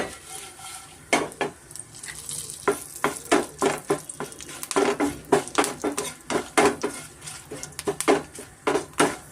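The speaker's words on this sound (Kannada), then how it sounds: "ಮೀಡಿಯಮ್ ಫ್ಲೇಮಲ್ಲೇ ನಾವು ತುಪ್ಪದಲ್ಲೇ ಒಂದು ಒಗ್ಗರಣೆ ಕೊಟ್ಟರೆ ತುಂಬ ಚೆನ್ನಾಗಿರುತ್ತೆ" Seeds and dry fruits tempering in ghee over a medium flame: a close, steady sizzle broken by frequent metallic clinks and scrapes of a spoon against the pan, in an irregular rhythm.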